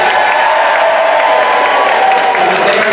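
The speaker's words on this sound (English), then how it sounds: "They actually cheer like this." A crowd at a magic show tribute to Harry Houdini cheers and applauds steadily, a dense bright roar that stays loud and unbroken throughout.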